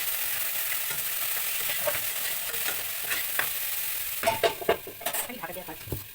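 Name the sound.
tomato and spices frying in pan, stirring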